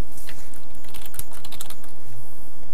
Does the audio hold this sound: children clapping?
no